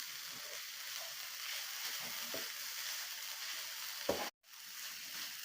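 A pitha mixture with ground cardamom is stirred in a pan over the stove, giving a soft, steady sizzle with a few faint scraping strokes and a brief dropout near the end.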